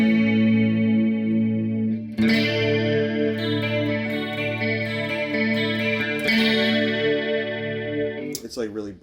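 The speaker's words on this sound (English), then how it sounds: "it's got a shift feature, which is like kind of more chorusing" An electric guitar plays sustained chords through a pedalboard, with a shift feature and a chorus effect combined, giving a shimmering, wavering tone that rings out loudly and is restruck a few times.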